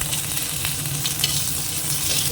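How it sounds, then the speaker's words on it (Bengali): Mango pieces stirred in a frying pan for a chutney, with a steady close sizzle and soft scraping of the spoon against the pan running continuously throughout. "আমটাও আগে নেড়ে নিই ভালোভাবে"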